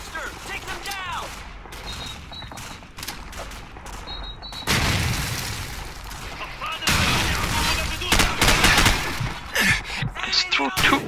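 Game explosions and gunfire from Call of Duty 4: Modern Warfare, with two loud booms bursting in near the middle and end over continuous combat noise and shouted voices.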